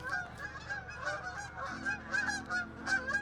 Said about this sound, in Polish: dzikie gęsi odlatują albo przylatują